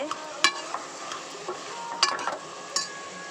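Soft sizzling of garlic and tomatoes in a pan with a few sharp metallic scrapes and clinks from stirring, close by and without speech.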